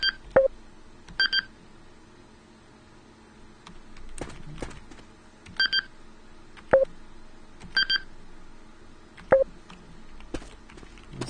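Short electronic error beeps from the Left 4 Dead map editor, triggered when navigation mesh squares fail to connect, repeat at irregular intervals among soft mouse clicks, with no talking.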